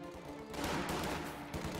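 Bursts of MG42 machine gun fire in a battlefield strategy video game, a dense, continuous rattle filling the short clip with a few sharper cracks near the start, loud and steady throughout.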